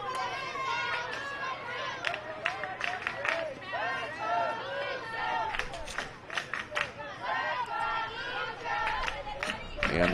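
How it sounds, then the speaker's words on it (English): Spectators at a West Volusia versus Brooksville youth T-ball bracket game shout and cheer for the West Volusia team, a lively mix of raised voices, chatter and some clapping, with a commentator talking over the noise. "And the shout for the West Volusia team from the crowd here."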